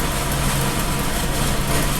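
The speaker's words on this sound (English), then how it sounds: "that is my air conditioner" An air conditioner running in the background gives a constant low, rumbling drone with a faint hum and no change in level, steady and unbroken from start to finish.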